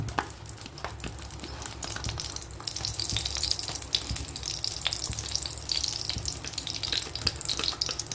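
Hot ghee hits a heated kadai and sizzles steadily, a bright continuous frying hiss with small crackles and pops, close and fairly loud, with no talking over it.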